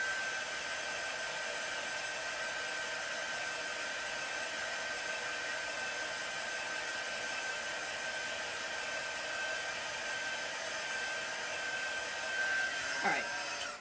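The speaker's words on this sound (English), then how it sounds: "Let me just dry my cheeks real quick." A hair dryer blows in a steady, unbroken whoosh with a thin whine on top, drying paint on an art journal page, fairly close and constant, with a brief rustle near the end and no talking.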